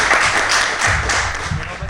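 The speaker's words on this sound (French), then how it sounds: "on va vous applaudir" An audience at a startup demo day breaks into applause, a dense, fairly loud burst of clapping that carries on steadily.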